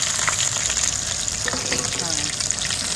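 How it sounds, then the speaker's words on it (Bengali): Loud, continuous sizzling of fish pieces frying in hot oil for chilli fish, with a few stirring scrapes and soft clinks partway through. "এবার এরকম করে সব আমরা মাছগুলো আগে ভেজে নিই"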